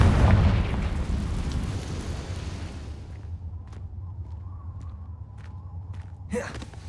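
A fiery Confringo spell in the Hogwarts Legacy game bursts with a loud, rumbling explosion that decays over about three seconds, followed by quieter thuds, footsteps and a brief whoosh near the end.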